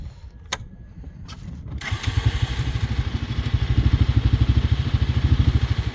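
A Bashan 250 shaft-drive quad bike with a manual gearbox pulls away without throttle, its single-cylinder engine chugging in a steady low rhythmic thump that grows louder after a few faint clicks, with no talk.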